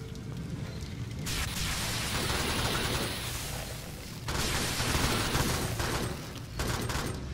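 Continuous gunfire in the video game Alien Swarm, aimed at tables: dense, loud, sustained bursts that pause briefly around the middle, then resume.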